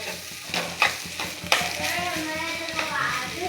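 A jackfruit vegetable dish is stir-fried in a pan: a close, continuous sizzle broken by repeated spatula scrapes and knocks against the metal.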